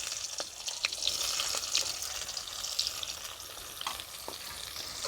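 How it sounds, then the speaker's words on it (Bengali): Onions and green chillies fry in a pan with a steady, crackling sizzle and a few sharp pops and spoon stirs, close and continuous throughout. "আমি এটা ভাজতে থাকবো।"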